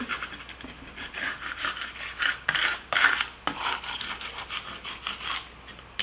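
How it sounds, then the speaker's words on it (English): Vinyl pressed onto transfer tape over a wood round is burnished with repeated rubbing strokes, giving a close, dry, scratchy scraping with no talk. "And now we'll burnish with our transfer tape."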